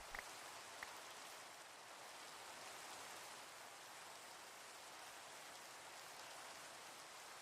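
Steady rain pours down in a medieval Minecraft world, a continuous even hiss of drops on surfaces with no talk over it.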